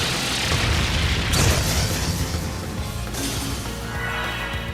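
Brionac weapon firing in Trails of Cold Steel 3, a loud, heavy explosive boom with a deep rumbling low end, followed by sharp bursts and a long crackling, rolling decay.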